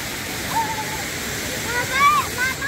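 The Monasterio de Piedra waterfall in Aragón makes a steady, even rush of falling water, while faint voices and a brief whistle-like tone rise over it.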